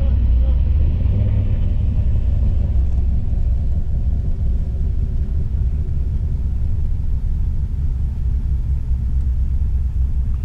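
A Holden Clubsport V8 with a performance cam idles at a New Zealand drag meet, a deep, loud, continuous rumble with an uneven lumpy throb, close by and steady, while people talk nearby.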